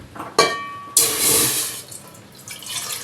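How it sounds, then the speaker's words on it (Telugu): Water splashes into a pot on a stove while making jowar idli, starting with a couple of sharp knocks, then a loud close gush that fades into a softer trickle. "వాటర్ వేసుకుందాం."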